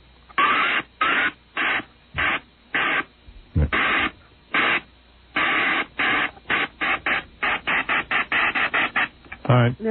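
A runaway train is imitated by a voice, mostly as loud, breathy chugging bursts that speed up into a rapid rhythm, with some vocal sounds mixed in over a narrow, broadcast-like line.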